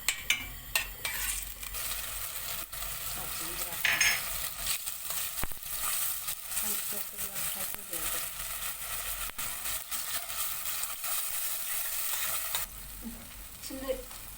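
Onion fries in a small amount of oil in a pot, with a steady, moderately loud sizzle and frequent stirring clinks and scrapes close by, while the onion cooks down for a Turkish spinach soup.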